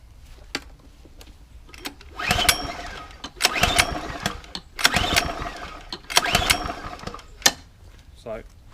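Repeated pull-start attempts on a petrol lawnmower that had just been refuelled after sitting dry: about four rattling, sputtering bursts of a few seconds each, separated by pauses, with the engine never catching.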